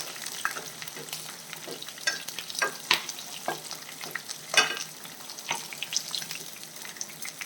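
Chicken pieces fry in hot oil in a pan for pepper chicken, a steady close crackling sizzle with scattered sharp pops and occasional stirring scrapes, no voices.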